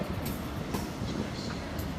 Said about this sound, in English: Arriva Trains Wales 175 coming in.